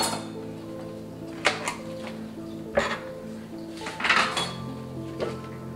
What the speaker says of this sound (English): I'm gonna scoot all the dirty dishes to one place like I said I was going to